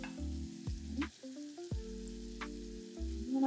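Minced garlic frying in a pan over medium-high heat, a steady close sizzle with soft scraping and stirring knocks running throughout, no talking.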